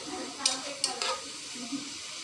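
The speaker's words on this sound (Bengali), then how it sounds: "অনবরত নাড়তে থাকবো যাতে তলায় লেগে না যায়।" Coconut filling for bhapa pitha is stirred in a pan with a spoon, giving a few sharp scraping clicks against the metal over a soft, low sizzle, heard alone without talk.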